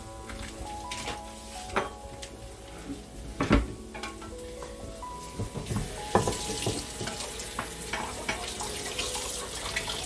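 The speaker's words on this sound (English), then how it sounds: "I love the smell of onion and garlic frying." Chopped onion and garlic fry in a pan for beef burritos, a soft continuous sizzle with occasional clinks and stirring knocks, heard close.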